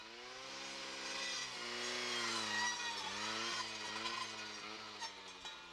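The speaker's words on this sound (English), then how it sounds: "Then tilt the left side of the blade up and cut upwards and at an angle to meet the first" A brush saw's engine runs steadily as its blade cuts into a tree stem during pre-commercial thinning, a sustained whine at moderate distance with slight pitch dips as the blade bites.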